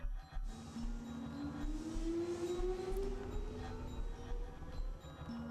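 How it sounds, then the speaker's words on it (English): Video game train sound as doors close and the train departs, a rising whine of the motor climbing steadily over a rumbling rhythmic clatter of wheels, moderately loud with no talk. "As soon as she boarded, the doors closed and the train departed."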